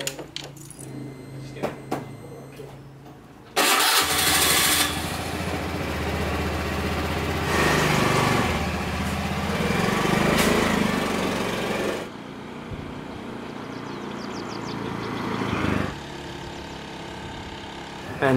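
A small scooter engine starts and then runs steadily under a loud, sustained drone while it is ridden, with the noise dropping partway through before rising again.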